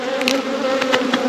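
Honey bees buzz steadily and close during a beekeeper's first hive check of the year, after being knocked off the frames, with a continuous droning hum and a few louder passes as individual bees fly near.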